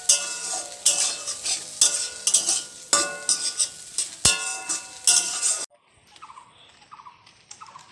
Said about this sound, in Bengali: এদিকে ভেন্ডি আলু ভাজা হচ্ছে